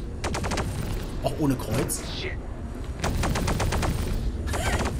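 Spaceship guns firing in Star Citizen: rapid rhythmic bursts of automatic fire, loud and close, in two long volleys with a sweeping whoosh between them, while someone speaks over the shooting.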